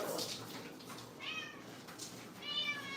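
A house cat meows several times, moderately close, with short plaintive calls spaced across a quiet indoor room.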